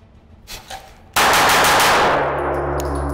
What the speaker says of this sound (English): So what I'm going to do for this is draw and fire 5 rounds.